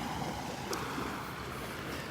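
Ocean waves kicking up on the Gulf beach at Delnor-Wiggins, a steady broadband wash of surf close by with a brief brighter splash, no talk.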